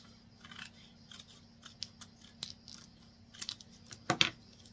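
Scissors snip through fabric in several quiet, separate cuts with a crisp burst near the end, close by and with no talking.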